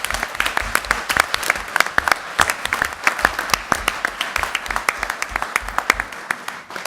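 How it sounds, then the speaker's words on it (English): An audience at a school committee meeting applauds students, a steady patter of many hands clapping close by for several seconds before tapering off. "give them a round of applause publicly"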